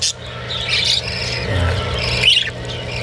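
Breeding parakeets chirping in their cages, scattered bright tweets and squawky calls over a low background hum.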